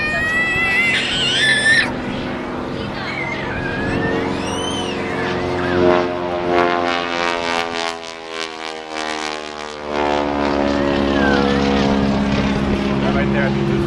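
An aerobatic propeller airplane at an air show dives steeply toward the ground, its engine note droning loud and rising and falling in pitch throughout, with people talking over it nearby.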